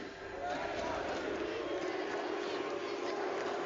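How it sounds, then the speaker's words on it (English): A stadium crowd at a Valorant esports match booing, a dense, steady roar of many voices swelling after a brief quieter start. "बू हो रहा है पूरे स्टेडियम पे."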